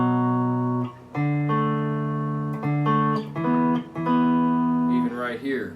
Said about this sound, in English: if you listen carefully, you can hear that there's only 2 notes being played in one of the power chords